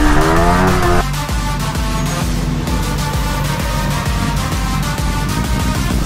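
A KTM RC200 and a Yamaha R15 V3 racing and drifting: loud, steady engine roar with a high whine that drops after the first second, then continuous droning revs with rhythmic pulses throughout.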